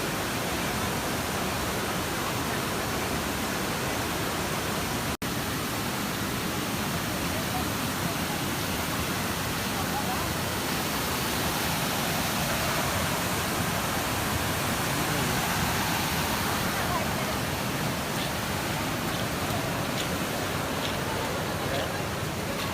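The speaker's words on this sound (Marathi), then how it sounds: "पावसाचा त्या कड्यावरून डायरेक्ट पाणी खाली लोटलं जातं" A monsoon waterfall pours straight down a cliff, a dense, steady roar of falling water that fills the whole scene without letup, close and loud.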